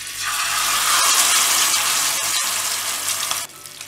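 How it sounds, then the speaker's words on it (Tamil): Steady crackling sizzle of fish frying in hot oil, loud and close, with a few sharp pops and no talking. "இப்போ இந்த மீனை வந்து இதில் போட்டுடலாம்"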